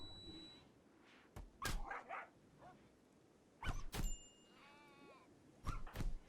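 A dog barks and yelps during a melee fight in the RimWorld video game, with sharp impact thuds and a few short animal cries spread across a quiet background.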